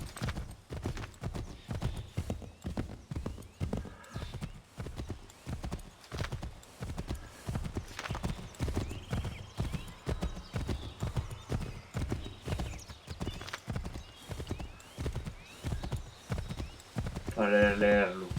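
Horse hooves galloping in the Assassin's Creed III video game, a steady rhythmic clip-clop close by with a whinny near the end, while someone talks over it.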